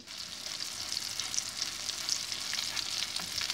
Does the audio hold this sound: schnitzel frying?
yes